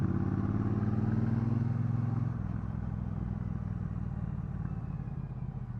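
A Triumph Bobber Black 1200 motorcycle ridden along back roads, its engine a steady, loud, close drone with a lower, rumbling note after a gear or throttle change partway through, plus wind noise and no talk.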